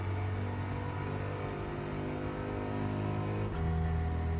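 Steady in-car engine drone of a Volkswagen GTI lapping a race track, holding a constant pitch before a quick gear change drops the tone and the engine pulls again.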